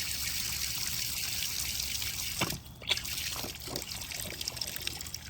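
A thin stream of water trickles and dribbles out, with a few small splashes and drips over a steady background hiss.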